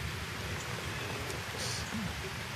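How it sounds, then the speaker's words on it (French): Steady rain hisses evenly throughout during an outdoor metal-detecting outing, a dense wash of pattering drops with no clear pauses. "Bon ben la pluie se met de la partie. La pluie se met de la partie. Je l'entends arriver."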